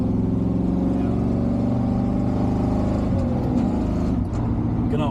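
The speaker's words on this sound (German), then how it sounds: "Ich gebe mal gerade Vollgas." A Chevrolet K10 pickup engine with an LPG gas system revs at full throttle, loud and close, holding a steady droning roar before the pitch shifts near the end.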